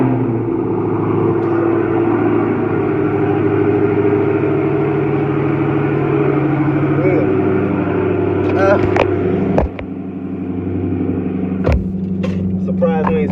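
A Dodge Hellcat idles with a heavy, steady rumble close by, punctuated by a couple of sharp clicks near the end, while someone talks over it.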